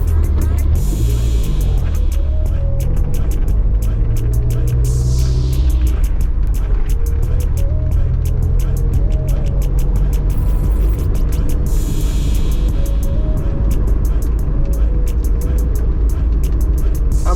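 A car drives along road B7 in the parish of Westmoreland, Jamaica, its engine a steady low rumble throughout with some shifts in pitch, close and continuous, while music or voices seem to run underneath.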